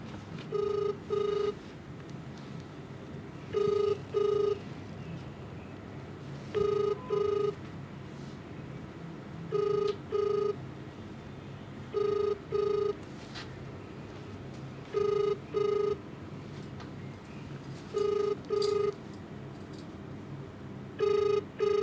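A telephone rings unanswered over a long stretch, its bell sounding in regular paired bursts that repeat about every three seconds against a low steady background hum, with no one picking up.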